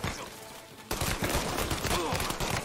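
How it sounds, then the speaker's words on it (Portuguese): Rapid gunfire in the video game Mafia: Definitive Edition, a dense burst of shots that erupts suddenly and keeps rattling loudly close by until the end. "Nossa, tomei muito tiro."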